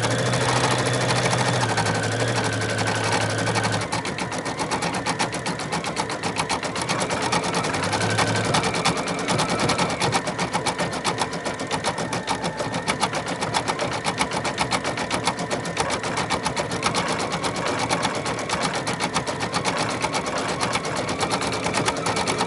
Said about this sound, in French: c'est génial, hein, de voir travailler une machine à broder